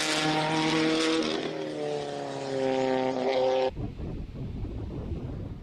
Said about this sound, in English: That is the turbocharged little BRZ of Miss Claire Vale.